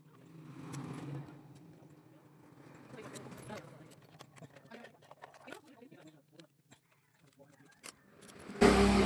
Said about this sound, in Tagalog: maingay yung sasakyan